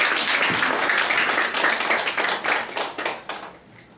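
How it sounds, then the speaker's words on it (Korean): An audience at a new party members' training session bursts into dense, close applause that holds strong, then thins and fades over the last second. "다 같이 박수 한번."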